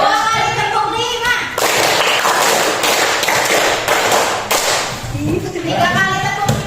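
A classroom of students claps a rhythm pattern together, a dense, loud burst of many hands that ends after a few seconds. A teacher's voice comes before and after.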